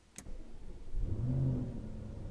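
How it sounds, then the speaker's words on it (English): A short whir of a starter, then a 2020 Audi RS Q8's engine turns over and catches, rising into a low rumbling idle nearby; no talking. "let's fire it up for the first time"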